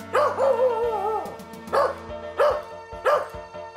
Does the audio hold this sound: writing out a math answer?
no